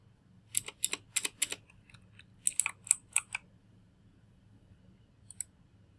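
Sharp, close mouse clicks during motion-tracking work in Kinovea video analysis software: a quick run of four, a pause, then another cluster of four or five, and one last isolated click, over a quiet room hum.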